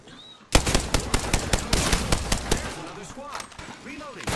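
Rapid automatic gunfire from a first-person shooter game, a loud dense burst of shots that stops partway, followed by scattered lighter game effects and some talk.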